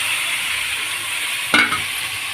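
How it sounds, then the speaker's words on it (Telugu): Onion and tomato pieces sizzle in a pan, a steady hiss with a brief clatter of stirring midway, close and without talk. "ఎండ్రాయిలు ఉల్లిపాయ బాగా వేగి అలాగే టమాటా ముక్కలు వేసేద్దాం."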